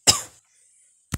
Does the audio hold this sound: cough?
yes